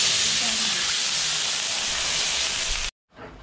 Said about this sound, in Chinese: 倒入水，这个是刚才泡春干的水。